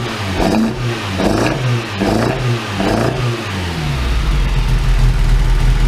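A car engine on an ME221 engine management setup, being tuned for launch control, revs in four uneven bursts, each rising and falling, then settles into a rough, steady idle; loud and close with no talk.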